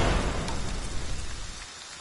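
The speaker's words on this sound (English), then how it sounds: "Oh, it's raining." Steady rain hisses across the whole stretch in Friday the 13th: The Game, a dense wash of patter with a faint low rumble underneath and no voices.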